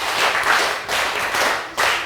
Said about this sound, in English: Give him 5 big claps